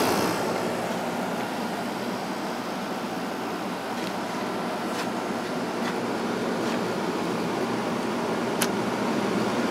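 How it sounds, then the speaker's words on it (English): A 6300 BTU Emerson Quiet Kool window air conditioner with a Matsushita compressor runs in a steady, even hum with a broad airy whoosh from the fan and a few faint ticks. "It's got a Matsushita compressor in it, which sounds real nice."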